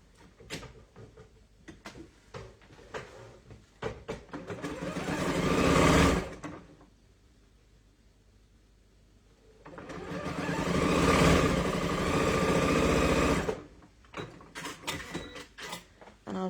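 A sewing machine stitches the long edge of a quilt block in two sustained whirring runs, each ramping up and stopping, separated by quiet handling clicks and rustles.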